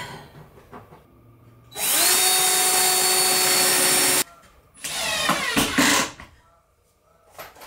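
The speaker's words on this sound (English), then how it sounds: "So I'm just going to go screw all those around, pre-drill, put the screw in" A power drill whines loudly and steadily for a couple of seconds driving screws into a wooden photo booth, stops, then a second shorter burst follows with some clattering, close up.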